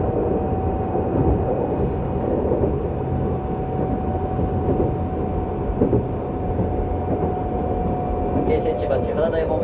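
Keisei 3700 series late-model unrenovated train with a Toyo GTO-VVVF inverter, running between Keisei Funabashi and Keisei Tsudanuma: steady loud interior rumble with a sustained inverter whine, continuous throughout.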